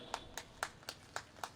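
Sparse hand claps from an audience at a gathering in Allapalli, Gadchiroli, six sharp isolated claps spaced roughly a quarter second apart, fairly faint with a low background hum.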